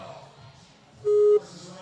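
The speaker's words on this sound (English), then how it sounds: "And the buzzer kicks it off." A starting buzzer at an adult athletics competition sounds once, a short steady electronic tone lasting about a third of a second, cutting through low background crowd noise and nearby talk.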